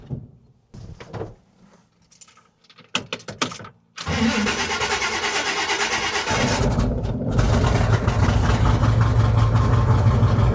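A 1970 Chevy C20 truck with a leaking carburetor cranks over in a few sputtering bursts, then catches and settles into a loud, steady idle that rises slightly partway through, close by with no talking.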